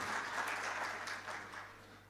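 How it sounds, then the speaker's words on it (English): Audience applauding at a digital banking and payments summit expo, a steady dense wash of clapping that holds evenly and fades slightly toward the end. "Big round of applause."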